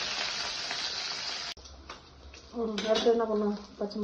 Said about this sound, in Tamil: சீரகம் நல்லா பொரிஞ்சிருச்சு, கருவேப்பிலையும் பொரிஞ்சிருச்சு.